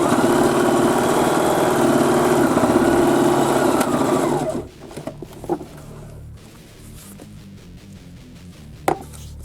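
A sewing machine stitches denim to checkered faux leather fabric, a loud continuous motor hum for about four and a half seconds that stops abruptly, followed by quiet clicks and fabric handling.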